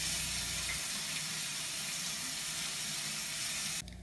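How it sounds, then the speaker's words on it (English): Running tap water splashes steadily as fingers are rinsed beneath it, a close, even hiss that cuts off abruptly near the end. "And then of course we're gonna go ahead and rinse our fingers off."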